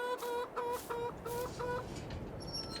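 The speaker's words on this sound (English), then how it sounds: "Hello, chickens." Chickens cluck inside a coop in a farming simulator, a quick run of about six close, evenly spaced clucks followed by a higher squawk as the birds fuss, with no talking.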